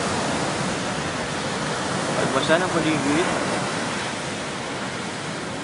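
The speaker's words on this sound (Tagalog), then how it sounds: "panay ang alon." Ocean waves wash continuously onto the shore at Bolinao, a broad steady surf roar with a voice speaking briefly over it.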